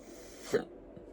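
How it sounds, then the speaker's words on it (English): A single short hiccup from a person, a brief throaty catch standing out alone against quiet room tone. "oh, I got the hiccups."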